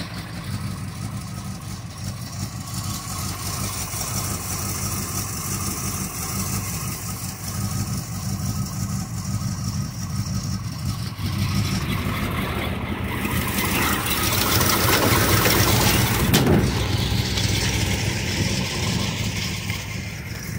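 1976 International Scout II with its original 304 engine idling nearby, a steady low rumble that swells somewhat louder midway.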